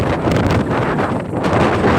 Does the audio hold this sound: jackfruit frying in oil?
no